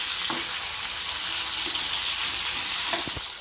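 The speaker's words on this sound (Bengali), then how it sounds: "মাছগুলো আমি এখন ভেজে নেব, সবগুলো মাছ।" Pieces of rui fish fry in hot oil, a loud, steady close-up sizzle with a couple of brief knocks from turning or handling near the start and end.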